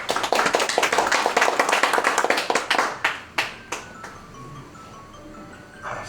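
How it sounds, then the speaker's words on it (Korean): A congregation at a church thanksgiving service claps in a brisk burst of many hands that thins out into a few scattered final claps before fading to quiet. "박수 부탁드립니다."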